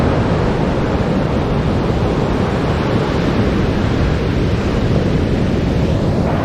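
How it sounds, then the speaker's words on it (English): Ocean waves crash onto a beach in Portugal, a loud, continuous roar of surf mixed with wind buffeting the microphone, with no voices over it. "the waves down here are pretty big"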